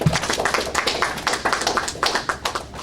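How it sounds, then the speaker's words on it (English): A round of applause for a visiting TV reporter at a media school, with dense, uneven hand clapping and sharp taps rising and falling throughout, fairly close and without talk. "let's give a round of applause to Lisa Chavarria"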